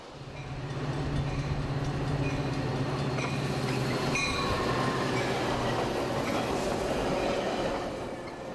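Metra commuter train on the Union Pacific Northwest line near Chicago, rumbling steadily and loudly with a low engine drone, rolling rail noise and faint wheel squeals, continuous throughout with no talk.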